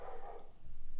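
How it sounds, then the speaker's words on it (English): A brief, faint dog bark sounds from a distance against a low background rumble. "Sorry if you hear Lola barking in the background."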